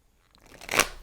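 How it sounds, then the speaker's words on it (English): Tarot cards being shuffled by hand, a short papery riffle that builds over about a second into a close, crisp burst. "I'm just going to shuffle a little bit more"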